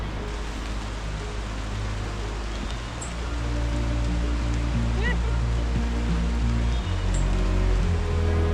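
Rain falling on a steep, muddy forest trail in Costa Rica, a dense, steady wash of drops that grows slightly louder midway, with a faint voice in the background.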